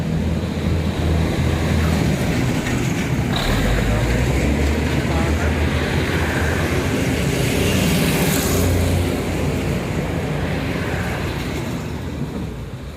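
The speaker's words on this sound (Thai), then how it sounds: "ตอนนี้ขบวนรถมาแล้วนะครับ" Diesel railcar train 286 rolls through a busy station in heavy rain, a loud sustained rumble blended with rain hiss that slowly fades toward the end.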